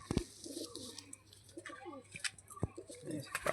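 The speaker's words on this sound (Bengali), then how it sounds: "এটা একটি মাদি পায়রা" A female pigeon coos close by, low throaty coos repeated over a few seconds, with faint chirps and light background noise.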